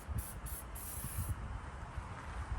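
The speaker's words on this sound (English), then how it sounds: "So I'm just gonna spray down a little bit." Zap Twister penetrating spray hisses onto a rusted front-end part of a 2006 Dodge Sprinter van in several short, close bursts, followed by a steadier hiss with no talking.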